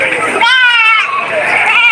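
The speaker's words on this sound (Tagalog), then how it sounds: "Matangkad ang lahi ng kambing na ito nagmula sa Batangas City." A tall-breed goat from Batangas City bleats loudly and close by at a livestock sale, one long wavering cry stretching through most of the moment, with other animal sounds faintly around it.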